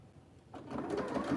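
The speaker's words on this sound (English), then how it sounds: "now I'm going to sew with a 3/8 inch seam allowance along the outside of my mask" A sewing machine starts up on a fabric face mask seam after a quiet moment, its motor and needle rising into a close, steady whir.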